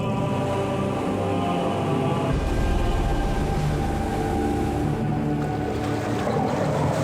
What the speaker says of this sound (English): You notice how we're backing the boat up?